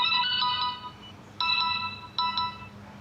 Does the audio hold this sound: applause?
no